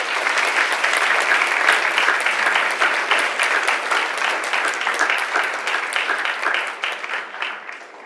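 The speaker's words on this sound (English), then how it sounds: "teacher Reshma, I want you to give a clap for the group." An audience at a school club assembly applauds, a loud, dense burst of many hands clapping that holds steady and then gradually thins and fades toward the end.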